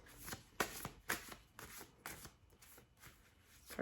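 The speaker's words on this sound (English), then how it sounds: "Cards are hard to shuffle." Repeated riffling bursts of cards being shuffled by hand, close and crisp, coming in an uneven rhythm of quick flutters with short pauses between.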